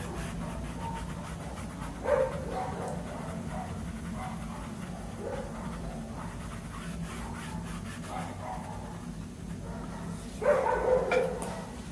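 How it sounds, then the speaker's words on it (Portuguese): Neighbour's dogs barking and yelping in bursts at a distance, the loudest flare-ups near the start and again toward the end, over steady low background noise. "quem aguenta esses cachorros, esse vizinho meu?"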